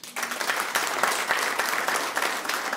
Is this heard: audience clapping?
yes